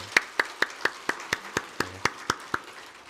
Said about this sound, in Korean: 우리 교회 호스피스 팀에게 우리 감사의 박수 한번 하겠습니다